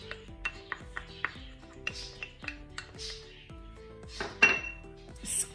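A casserole pan clatters and clinks against dishes and metal utensils in a home kitchen during dessert preparation, a steady run of close, sharp knocks and ringing chinks, with a brighter scrape near the end.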